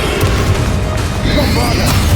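A Confringo fire-blast spell from Hogwarts Legacy, a loud booming burst with a crackling, whooshing tail, heard amid the constant roar of spell combat and a voice calling out.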